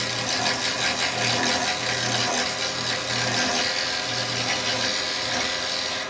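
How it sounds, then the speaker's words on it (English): A roughing gouge chatters and bounces against a wooden bowl spinning on a wood lathe, giving a steady loud scraping whir with a pulsing low tone that repeats roughly every second. "But when I get here, you hear that? It starts to bounce."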